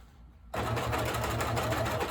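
A sewing machine hemming over a bulky seam starts abruptly after a quiet moment and runs as a steady, fast mechanical whirring chatter, close and loud, with no talk.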